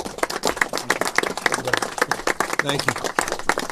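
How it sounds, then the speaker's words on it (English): At a California political rally with the Governor, the audience applauds in a dense, continuous patter while a speaker talks over the clapping. "Can we please give him a round of applause?"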